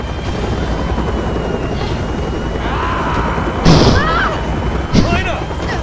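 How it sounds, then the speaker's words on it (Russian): A helicopter in the video game Resident Evil 6 drones steadily as a dense, constant rotor and engine rumble throughout, with a couple of louder mechanical bursts and someone talking quietly over it. "сейчас у нас будет возможность поуправлять вертолетом"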